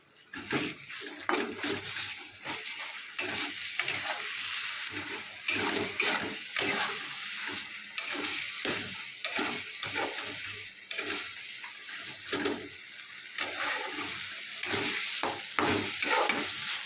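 Masala sizzles and fries while it is stirred in a pan for an Odia fish curry after the tomatoes are cooked. The frying hiss is continuous and close, with repeated scraping stir strokes throughout.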